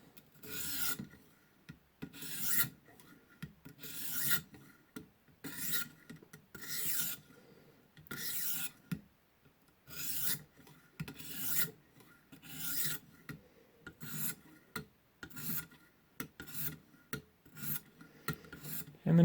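Tanto knife being sharpened on a ViperSharp sharpener: repeated rasping strokes of steel across the abrasive, about two per second in bursts, close and clear with no talking.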